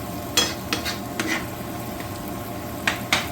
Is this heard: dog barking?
no